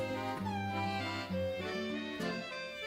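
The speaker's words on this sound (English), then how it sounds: "I have to see what this cat's doing. This sounds interesting." A pet cat meows in a few drawn-out, tonal cries that bend in pitch, heard over a background of game music.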